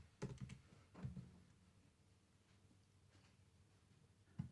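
Keystrokes on a computer keyboard while writing SwiftUI code in Xcode, a few quick clusters of soft taps separated by quiet pauses, close but faint.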